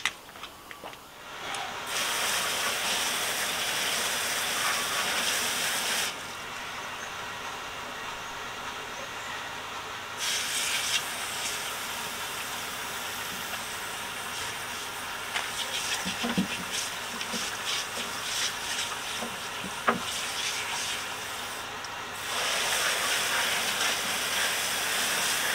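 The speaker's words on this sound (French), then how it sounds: "Ah, faut que je rallume la pompe." A pressure washer pump drones and hisses while wheel rims are rinsed, holding a steady broadband roar that cuts out briefly twice and then comes back.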